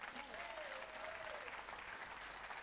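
A church congregation claps and cheers in steady, dense applause that fills the room without a break, with a voice faintly rising through it.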